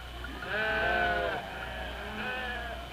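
Sheep in a Navajo flock in the American Southwest bleat close by, one long wavering call followed by a fainter second bleat, with no voices.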